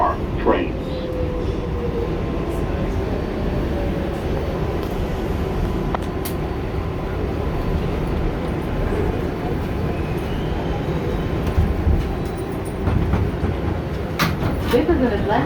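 An R142A 4 train on the New York subway rides toward Atlantic Avenue, with a constant loud rumble and rattle of the car, rail clicks and brief squeals, and a voice speaking over the noise.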